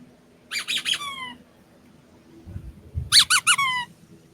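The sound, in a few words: squeaky ball toy squeaking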